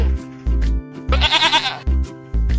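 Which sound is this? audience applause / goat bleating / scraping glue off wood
goat bleating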